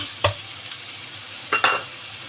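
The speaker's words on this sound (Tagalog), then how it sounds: "Ayan, pagdagisa na" Sautéing for creamy chicken in a pan: a steady close sizzle with a few sharp scraping stirs, no talking.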